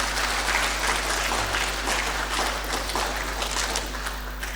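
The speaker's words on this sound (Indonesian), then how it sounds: "Kita tepuk tangan untuk mereka." A church congregation applauds a choir during an evening celebration, with dense, steady clapping that fills the space from start to finish at an even level.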